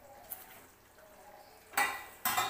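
A puri fries in hot oil, first a low quiet background, then two loud bursts of sizzling hiss near the end, each lasting under half a second.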